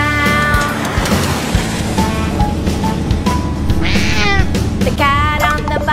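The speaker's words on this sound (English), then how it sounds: "The cat on the bus says meow," A meowing cat sings in a children's nursery song about animals on a bus, loud and musical, with repeated sung meows over a busy backing track.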